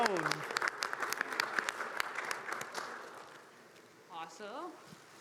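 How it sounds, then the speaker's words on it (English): Audience applause in the Dragonfly Theatre at the PAX East 2022 convention, a dense burst of clapping that fades out before a voice speaks briefly near the end. "A round of applause for Kyle, everyone."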